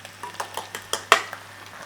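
Gravy being stirred into a mince and onion pie filling in a pan, a close series of about eight soft wet scrapes and squelches in a steady rhythm, the sharpest one near the middle, with no talk.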